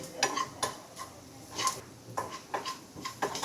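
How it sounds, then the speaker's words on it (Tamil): A spoon stirs spices, salt and sugar in a metal pan for mor kuzhambu. It makes repeated scraping sweeps and sharp metallic clinks at an uneven pace, close up, with no voices. "இதை வந்து நல்லா மிக்ஸ் பண்ணிக்கலாம்"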